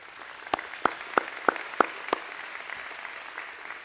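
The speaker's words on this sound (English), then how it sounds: "Please, round of applause" At an Embry-Riddle Worldwide graduation, six sharp, evenly spaced claps ring out close by, then a softer, scattered applause from the wider audience trails off in the background.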